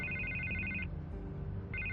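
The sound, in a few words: telephone ringing in Batman video game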